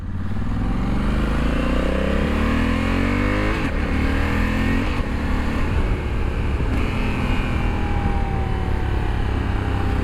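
Honda Africa Twin motorcycle accelerating hard on an open road, engine rising through revs with rapid gear changes, loud and close with steady wind noise, no talking.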